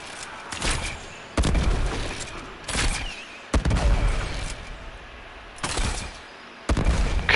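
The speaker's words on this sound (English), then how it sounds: "Look at those explosions." Bursts of heavy gunfire from the Kuva Brahma weapon and booming explosions in a PS4 video game, loud and close, arriving in several separate volleys with brief lulls between them.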